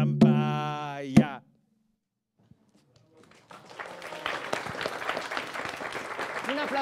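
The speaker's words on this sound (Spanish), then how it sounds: "Un aplauso otra vez" After a sung or hummed phrase and a brief silence, a studio audience at a Día de Reyes special breaks into clapping that builds into steady, moderately loud applause.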